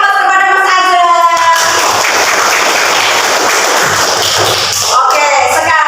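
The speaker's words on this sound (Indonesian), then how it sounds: "Beri aplaus kepada Mas Azhar" A classroom of students applauds a classmate named Mas Azhar during an Islamic religious lesson, with a spoken voice first and then a few seconds of dense, steady clapping fading out near the end.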